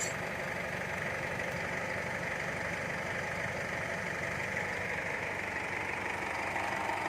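A 2013 Isuzu All New pickup diesel engine idles at close range, giving a steady, continuous rumble with a constant clattering knock and no change in pace.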